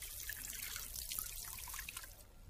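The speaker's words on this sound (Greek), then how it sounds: "σταμάτα τη βρύση" Water runs steadily from a tap into a sink, a continuous hissing trickle with faint splashing throughout, fairly quiet and with no voices.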